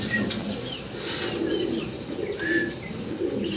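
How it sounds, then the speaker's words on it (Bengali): Pigeons in a Bengali pigeon-keeper's loft coo steadily and close by, with soft low throaty calls layered with a few higher chirps and occasional wing flutters throughout. "দর্শক এখানে সিঙ্গেল এবং জোড়া কবুতর আছে।"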